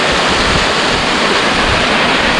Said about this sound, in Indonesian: di air terjun Lengang ini.